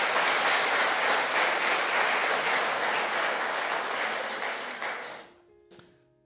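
A church congregation applauds loudly and steadily during a Spanish-language sermon, the dense clapping holding for about five seconds before thinning out and stopping, followed by a few faint stray claps.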